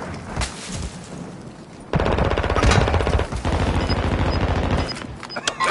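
Heavy automatic gunfire in Call of Duty Warzone: quieter scattered shots at first, then a loud, sustained burst of rapid shots with booming impacts dominating the rest.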